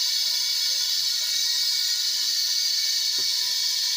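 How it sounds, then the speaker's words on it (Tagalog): Air hisses steadily out of a Kia Rio air-conditioning line with no refrigerant left, a continuous loud high hiss from start to finish, with a faint tap partway through. "hangin lang ang lumalabas, wala ni freon ang sumasama"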